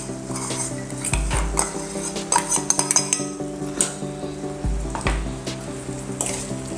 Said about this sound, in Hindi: देखिए मैं ऐसे मिक्स कर रही हूँ मूंगफली और इस